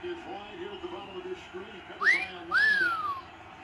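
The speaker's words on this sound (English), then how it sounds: "That was the whistle" Two rising-then-falling whistle tones, played back as a test on a pet dog at home, sound in quick succession over a low background hum with faint voices.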